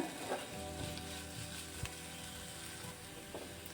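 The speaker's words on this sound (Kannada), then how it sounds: "ಒಂದೆರಡು ನಿಮಿಷ ಆದ್ರೂ ಮಸಾಲೆನ ಹುರ್ಕೋಬೇಕು" Masala roasting in a pan for egg puffs filling, a soft continuous sizzle with a few light scraping stirs and small crackles, close but quiet, without any talking.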